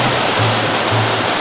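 Mountain creek flowing along a rock face on the John Muir Trail, a steady close broadband rush of water that stays constant throughout, with a low hum faintly underneath and no voices.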